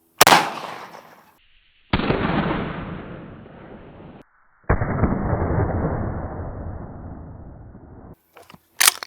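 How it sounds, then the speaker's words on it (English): A 12 gauge shotgun loaded with buckshot is fired at a Tesla Model 3: a sharp, loud blast opens, followed by two long, booming rumbles that decay slowly, then a few faint clicks at the end. "we have the Tesla Model 3 against 12 gauge buckshot"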